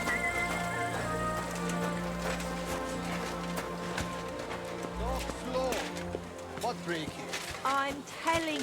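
Horse hooves clip-clop in the medieval role-playing game Kingdom Come Deliverance 2, a rhythmic trot mixed under music and ambient game sounds, growing more prominent and uneven toward the end.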